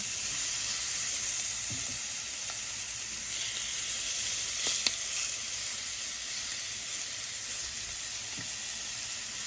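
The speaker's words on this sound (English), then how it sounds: "I'm going to start cooking the chicken for our burritos. Just going to put it all in the hot pan." Chicken pieces for burritos sizzle in a small hot pan, a continuous bright hissing fry that stays even and close, with a few faint clicks and shuffles of the pieces being moved.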